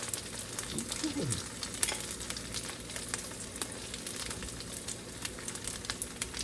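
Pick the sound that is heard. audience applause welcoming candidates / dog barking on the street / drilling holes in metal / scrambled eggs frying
scrambled eggs frying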